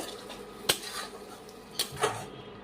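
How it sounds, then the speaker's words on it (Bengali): A spoon knocks and scrapes against a metal pan while spice paste for egg shahi korma is stirred and sautéed: a few sharp, close metallic clanks over a soft, steady background. "মশলাটা ভালো করে কষিয়ে নেব"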